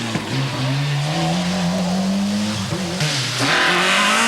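A Renault Megane rally car with an engine problem is pushed hard at the 1996 Omloop van Vlaanderen. The engine roars loudly and steadily close by, with tire squeal and skidding and a rising rev near the end.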